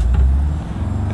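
In the BeamNG driving game, a manual car's engine drones with a steady low rumble as the clutch is eased up and throttle applied, loud and close throughout the short stretch.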